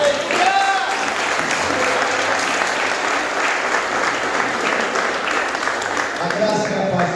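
A church congregation applauds during a celebration service, a dense, steady wash of clapping that fills the space throughout, with voices mixed in beneath it.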